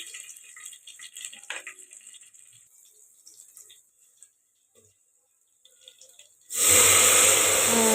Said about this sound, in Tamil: மூணு கப்பு தண்ணி ஊற்றிக்கோங்க